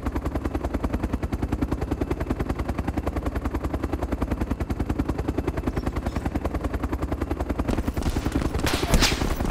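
Gunfire in Arma 2 DayZ rattles over a steady, pulsing rotor-like drone that runs throughout, loud and constant, with a burst of harsher noise near the end and no talking.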